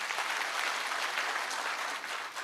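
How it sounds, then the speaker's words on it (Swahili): Steady, dense clapping from a crowd at a public security forum in Kisii Town, loud and continuous for the whole stretch with no voices standing out. "Pigeni makofi DG again."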